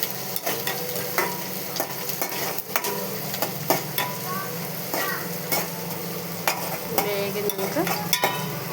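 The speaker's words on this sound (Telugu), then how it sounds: "ఉల్లిపాయ వేగినాక బాగా వేగాలి. ఇది ఉల్లిపాయ వేగాలి" Onions sizzle and fry in a pan for gongura curry, a steady close crackle broken by repeated spoon stirring and scraping against the pan.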